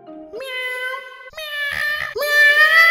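A person imitates a cat with three drawn-out, whiny meows that rise in pitch, close and clear.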